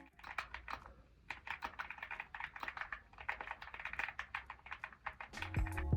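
Typing on a Keychron Q1 Max keyboard with an aluminum case and Jupiter Brown switches, a steady stream of soft, creamy keystrokes in irregular rhythm, close and alone.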